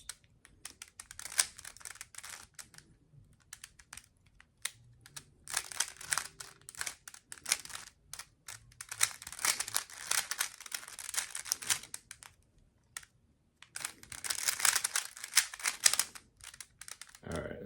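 A Rubik's Cube being turned during the yellow-corner stage of a solve, giving bursts of quick plastic clicks and rattling twists separated by brief pauses, close by and fairly quiet.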